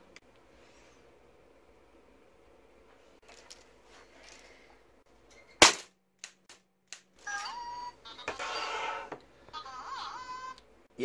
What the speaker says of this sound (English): actually BB-8 offered to have it shot off his head, so we'll set him up